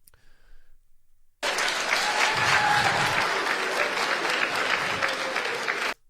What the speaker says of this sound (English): thank you to everyone who clapped for that